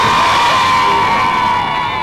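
A large crowd cheering and applauding in Glasgow in 1980, a dense, loud wash of shouts and clapping held steadily throughout the short stretch.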